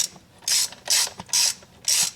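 A ratchet wrench clicks in four quick bursts while bolting up parts on a Subaru project car, with each close, crisp burst of pawl ratcheting separated by short pauses.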